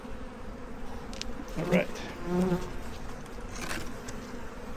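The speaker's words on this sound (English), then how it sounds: "These bees will almost certainly be in the top 4 frames." Honey bees drone steadily inside an opened hive whose frames are glued together with propolis, a continuous close buzz with brief spoken remarks over it and some handling noise.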